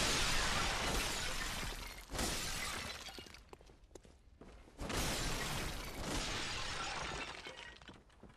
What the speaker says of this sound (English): The pots are still rocking.